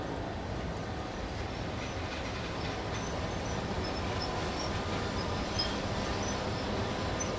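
A GBRf Class 66 freight locomotive in a train simulator game rumbles steadily with faint high metallic squeals from gentle braking, sustained and fairly quiet, with no talking.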